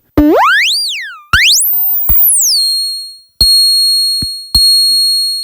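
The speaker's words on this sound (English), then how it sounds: "Let's see what happens when we turn on oscillator number 2. Ooh, that sine wave's lovely." Loud synthesized sine tones from the second oscillator of a JHS drum synth pedal sweep up and down in pitch, then settle into steady high beeps, each hit starting abruptly and fading.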